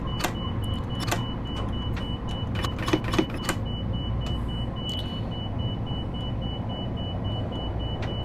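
Over the rumble of a train cab in Train Sim World 4, an overspeed warning alarm repeats as a steady series of short, evenly spaced beeps, with a few sharp clicks scattered among them.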